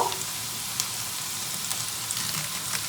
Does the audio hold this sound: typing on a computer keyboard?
no